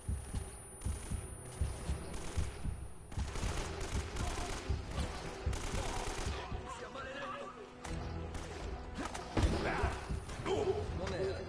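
Gunfire in the video game Uncharted: Drake's Fortune, dense bursts of shots and automatic fire layered with game music and effects, while someone talks over it.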